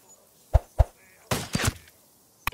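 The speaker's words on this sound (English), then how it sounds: "Must have heard the gunshot." Gunfire in Ghost Recon Wildlands on PS5: two dull, thudding shots close together, then a short, louder cluster of blasts, and one more sharp hit right at the end, over quiet background.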